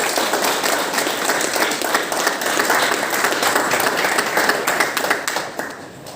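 Dense, steady applause from an audience honouring a silver medal winner, many hands clapping together at an even, loud level that tapers slightly at the end, with no speech.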